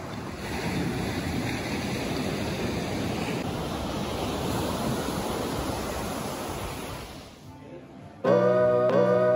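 Ocean surf washing onto a beach at Playa del Carmen, a steady broad roar of waves with wind buffeting the microphone, fading near the end before a loud, different sound cuts in.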